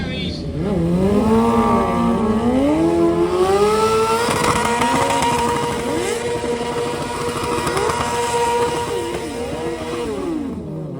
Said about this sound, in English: Enjoying the drift bikes, guys.